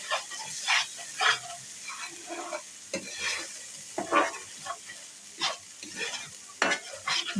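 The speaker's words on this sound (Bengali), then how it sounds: "এখন এটাকে ভালো করে নেড়ে চেড়ে কষিয়ে নেব" Cabbage and hilsa fish being stirred and fried in oil, with a spatula scraping and turning the food in steady bursts over a continuous close sizzle, no talking.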